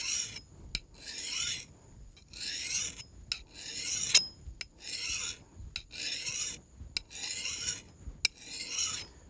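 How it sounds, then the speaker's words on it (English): Hand file drawn across an axe blade edge to set a bevel, about nine rhythmic rasping strokes with short pauses between, close and crisp with no talk. "I'm going to file till I feel a little burr on the back edge with my fingernail."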